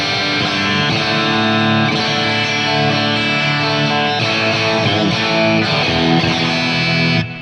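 Electric guitar on the bridge pickup through a Vox AC30 amp with some delay, ringing out sustained, full chords continuously and loudly with no talking.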